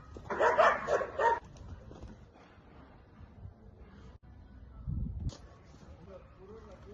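Dogs bark in a quick, close burst of several yips and woofs while playing on a horse property, then fall quiet before a second, shorter bark.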